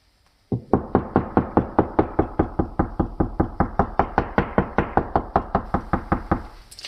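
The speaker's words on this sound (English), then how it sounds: "I'm going to start with the knock method just to show you, I'm pretty sure it's on this side, but listen to how it sounds" Knuckles rap on a drywall surface while hunting for a stud, a long even series of about two dozen hollow knocks, close and distinct, with no talking.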